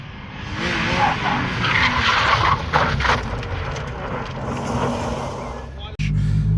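Race car skidding on the Teesside circuit, a loud sustained roar of engine and tire scrub throughout that cuts off abruptly near the end, followed by a brief low thud and rumble.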